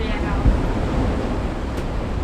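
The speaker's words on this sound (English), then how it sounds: "yeah, we got waves splashing on the roof" Waves splash onto the roof of a catamaran sailing through 3–4 metre seas in 24–25 knots of wind: a dull thump of water over a continuous rush of wind and sea noise.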